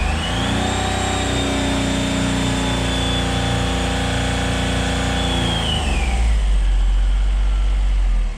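A Smart Fortwo diesel with a turbo idles at a boosted idle, holding a steady, close engine drone with a thin turbo whine above it before the pitch drops and the tone shifts to a deeper rumble near the end.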